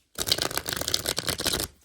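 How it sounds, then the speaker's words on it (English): Oracle cards being given a vigorous shuffle, a dense run of papery riffling and rubbing for about a second and a half, close and alone. "I'm going to give this a good shuffle, all right?"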